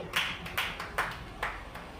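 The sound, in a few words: congregation applauding in church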